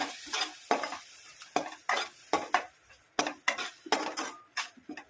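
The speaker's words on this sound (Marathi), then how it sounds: "ही पेस्ट मसाल्यासोबत नीट परतून घ्यावी." A spoon stirs a tomato, coriander and chili paste through masala in a pan, making a run of rhythmic scraping strokes with soft sizzling and light metal clinks, close up and without speech.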